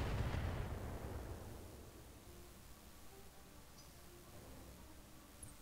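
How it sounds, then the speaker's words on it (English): Missile barrage from a mech battle in the video game RogueTech: a dense burst of explosions that opens loud, then thins into a rumbling, hissing tail that fades over several seconds. "Holy crap, how many missiles do you have, buddy?"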